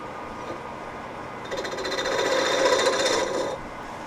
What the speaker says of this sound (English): I'm going to use my new spindle gouge first because it's new.